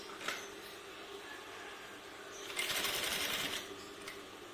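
A sewing machine runs briefly while stitching a corner, a quiet background hum that swells into a short, louder burst of stitching before easing off.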